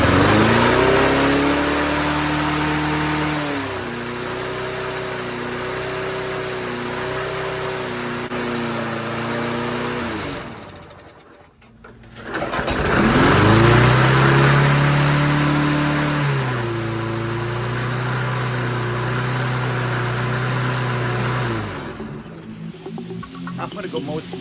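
A 30-year-old lawnmower engine running at wide open throttle, a loud steady buzzing drone that dips and cuts out briefly midway, then roars back up and settles into a steady run.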